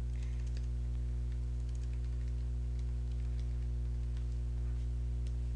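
Keys clatter on a computer keyboard in quick scattered bursts, faint and close over a steady electrical hum.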